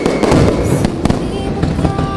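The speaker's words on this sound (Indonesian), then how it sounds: "Sana petasan dinyalakan, kembang api pun juga." New Year's Eve fireworks and firecrackers crackle and pop in quick, irregular bursts, with sharp loud bangs scattered through a dense, continuous rattle.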